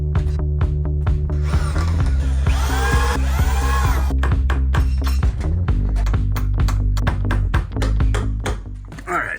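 A power drill drives screws into plywood and 2x4s while a rotting wall is rebuilt: repeated close, loud bursts of motor whine that rise and fall, with ratcheting clicks between them.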